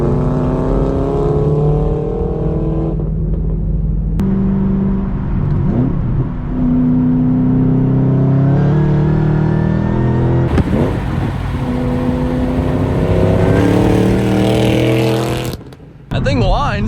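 A Shelby GT500 accelerates hard with a rising supercharger whine and revving engine, tires breaking loose; loud and close, with voices talking over it and a brief drop near the end.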